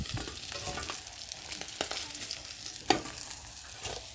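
Pieces of kos fish fry in a pan with a continuous close sizzle, broken by a few sharp crackles and spatters, one standing out near the end; nobody speaks.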